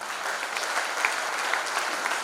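An audience at a Hindi kavi sammelan poetry recital at Bina Refinery, Madhya Pradesh, breaks into dense, sustained applause from a large crowd, steady and fairly loud for a couple of seconds.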